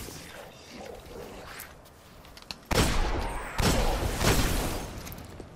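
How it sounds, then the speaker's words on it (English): Hand cannon shots ring out in Destiny, two loud sharp blasts with ringing tails, preceded by quieter game ambience. "Get out my hand cannon."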